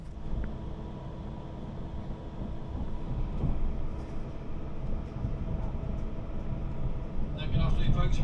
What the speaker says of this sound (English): as our train is now departing Edinburgh